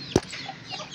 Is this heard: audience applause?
no